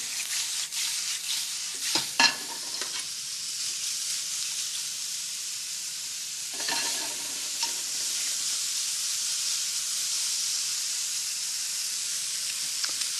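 Mushrooms sautéing in a pan for risotto, giving a steady close sizzle and hiss with a few louder bursts of stirring, without any talk.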